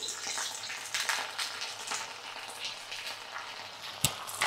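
Onions, curry leaves and mint fry in oil in a pan with a steady, close crackling sizzle that rises and falls, broken by a single sharp click near the end.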